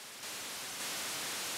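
White noise from a YM2149F sound chip module wired on a breadboard, a steady broadband static hiss that steps up slightly in brightness partway through, alone and unbroken.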